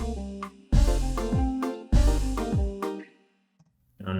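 A cymbal crash cuts off a plucked, syncopated Afrobeat-style groove in a song, with loud hits near the start and midway before the music drops out to near silence.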